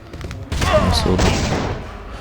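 A short burst of sharp gunshot-like bangs and thuds, loud and close, followed by a brief echoing tail, with a voice faintly present.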